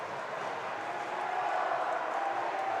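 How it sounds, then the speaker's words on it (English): A large crowd of Ukrainian supporters roars at a Kyokushin karate championship, a dense, distant-sounding wash of cheering that holds steady from start to finish. "There is a big crowd from Ukraine. You can hear them cheering"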